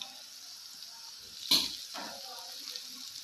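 Spices for a tadka tempering hit hot oil in a home kitchen and sizzle with a loud burst, then settle into a softer, steady crackle that fades, with no speech.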